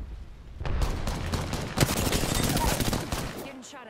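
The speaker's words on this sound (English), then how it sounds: "Getting shot at." Gunfire in the video game Apex Legends, rapid bursts of shots rattling in quick succession, loud and dense throughout, with a voice briefly speaking underneath.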